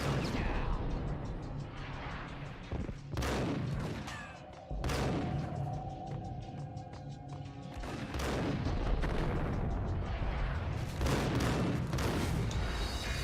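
Gunfire in Max Payne, in a scene where the gun bugs out and fires straight up: several sharp, loud shots in irregular succession, with clanking mechanical noise and a dense rumbling background between bursts.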